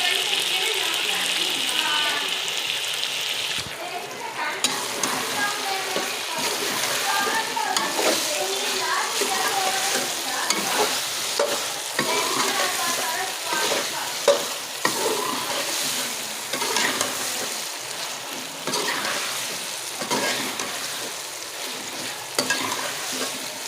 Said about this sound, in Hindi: अब हम हल्की आंच पे 3 से 4 मिनट तक इसे फ्राई करेंगे।